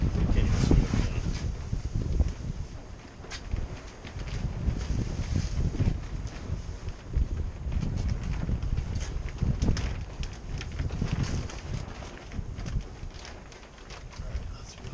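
Strong wind buffets the microphone in gusty, rumbling surges during shrink-wrapping of a boat, with faint crackles and knocks mixed in over fifteen seconds.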